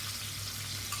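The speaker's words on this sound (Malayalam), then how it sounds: "కాకరకాయ ముందు నూనెలో వేపాల" Bitter gourd frying in hot oil gives a dense, continuous hiss of sizzling, close and even, with no voices over it.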